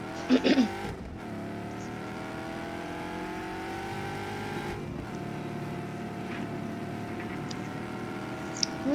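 Car engine in Just Cause 3 drones steadily and loudly throughout, shifting pitch as it revs and changes gear, with a brief scrape or squeal near the start.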